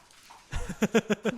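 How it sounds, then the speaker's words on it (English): Two little pet dogs bark indoors in the background, a quick run of four or five sharp yaps after a brief rustle, moderately loud with no talk over them. "Sorry guys if you hear my dogs in the background."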